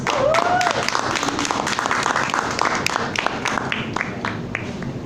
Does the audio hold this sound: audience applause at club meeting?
yes